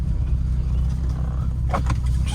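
A Lotus Elan restomod with carburettors cruises at quarter throttle, its engine a steady low drone from inside the car, with a brief rustle near the end.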